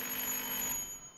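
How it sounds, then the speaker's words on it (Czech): An audible warning signal on a PLC replacement control module, switched on with a key, gives a steady, fairly faint high electronic tone that holds for just over a second with no talking. "Následně pomocí klíčku spustíme zvukové upozornění"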